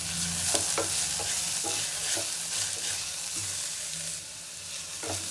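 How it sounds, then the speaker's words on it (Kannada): Sliced onions sautéing in a pan for mushroom biryani, with a steady close sizzle and repeated scraping stirs, no talking. "ಸೊ ಈರುಳ್ಳಿನ ಅಷ್ಟೇ ಹಿಂಗೆ ನೀಟಾಗಿ ಬಾಡಿಸ್ಕೊತೀನಿ"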